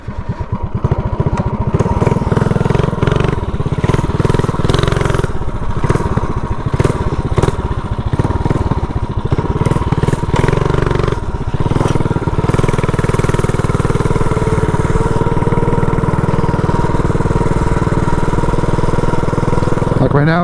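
A custom minibike fitted with a GoPowerSports front end rides along, its small engine buzzing loudly and continuously with rising and falling revs for about twenty seconds, close up and steady throughout.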